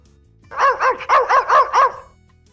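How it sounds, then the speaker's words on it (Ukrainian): A puppy, mother dog and father dog bark in a close, clear run of about six rhythmic barks, each with a yelping, rising-falling tone, then silence. "Є маленьке цуценя, мама собака, а не вистачає тата, який називається пес."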